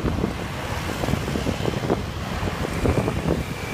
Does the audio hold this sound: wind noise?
yes